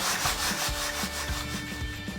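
Sand and gravel sifting through a screen during sapphire digging in Montana, a steady rough scraping and rubbing with rhythmic shakes, close and continuous with no talking.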